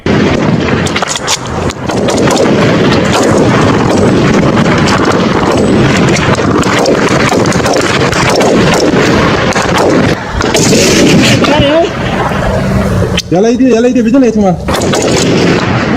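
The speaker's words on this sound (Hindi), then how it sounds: "पाकिस्तानी सेना जा रही थी गाड़ी में, उसके बाद देखिए फायरिंग शुरू की।" Sustained gunfire aimed at a Pakistani army vehicle, loud and continuous with dense bursts of shots over steady wind buffeting on the microphone.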